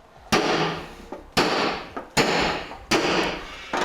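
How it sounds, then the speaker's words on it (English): Four sharp metallic strikes ring out one after another, each a crisp hammer blow on a center punch marking holes in metal, with a brief ringing decay, close by. "we're going to go ahead and center punch all of the holes"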